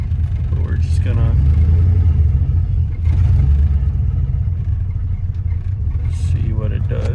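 A 1997 Ford Mustang with a newly fitted idle position sensor idles and creeps in first gear, a steady low engine rumble running throughout with a voice talking over it and brief noisy bursts.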